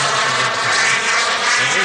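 A model F-22 jet aircraft streaks past at roughly 150 to 170 miles an hour, a loud, steady rushing roar filling the short moment.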